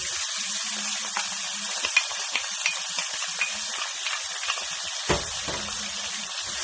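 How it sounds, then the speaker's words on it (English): Cumin seeds crackle in hot oil over medium heat with a steady hiss and scattered small pops, then a sharp clatter as onions go into the pan and start frying. "Jeera is cracking now, so I'm going to add"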